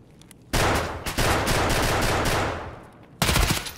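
Sustained automatic gunfire in the shooter game Escape from Tarkov, a loud dense burst running nearly three seconds after a few faint shots, then another sharp burst near the end.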